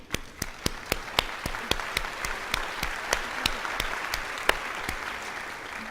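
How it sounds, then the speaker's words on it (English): An audience at a scientific lecture on T cell immunotherapy applauds, with crisp individual claps standing out at a steady rhythm over a softer wash of clapping, fairly close and no voices. "So let me get applause for Helen."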